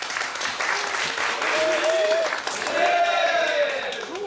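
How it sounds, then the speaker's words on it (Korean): Audience applause welcomes a presenter at a public-sector HRD contest final, a steady dense wash of clapping across the hall with some tonal squeaks mixed in. "큰 박수로 맞이해 주시기 바랍니다."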